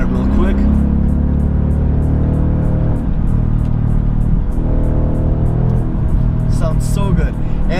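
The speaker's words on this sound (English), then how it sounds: "I have the MBRP catback race exhaust, and I couldn't ask for a better exhaust system" A 2015 Ford Mustang GT with an MBRP catback race exhaust cruising at about 80 mph on the highway gives a loud, steady, deep exhaust drone throughout, with brief shifts in pitch.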